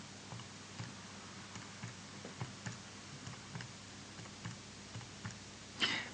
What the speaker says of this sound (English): you can type this into your calculator